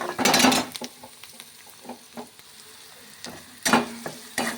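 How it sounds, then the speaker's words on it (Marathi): Chopped onion fries in a pan, a near sizzle with scraping stir strokes: loud bursts at the start and again near the end, quieter crackle and clinks between, and no talk. "बघा मी कांदा भाजत आहे बघू शकताय तुम्ही"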